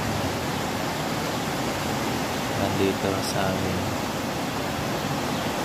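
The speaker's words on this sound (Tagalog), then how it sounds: "Yan dito sa amin mga palangga, umuulan." Heavy rain falls outside during flooding, a dense continuous hiss and rush of water that runs under a person's speech throughout.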